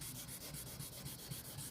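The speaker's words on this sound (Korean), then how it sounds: "그 느낌에 맞춰서 이렇게 샌딩을 해주시면 됩니다" Wet sanding smooths body filler putty on the lower bumper of a Hyundai Equus, a soft, faint rhythmic rubbing with repeated back-and-forth strokes, close up and alone.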